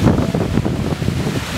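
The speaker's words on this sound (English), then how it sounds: "Look at the waves, it's kicking up." Storm wind gusts hard across an open stretch of the Atchafalaya, roaring against the microphone over the wash of choppy waves kicking up on the water, loud and constant.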